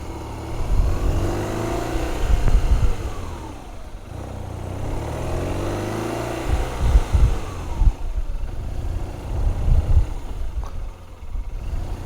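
A modern heavy dual-disc motorcycle engine rumbles and revs nearby in several rising and falling surges, with wind noise around it and no talk.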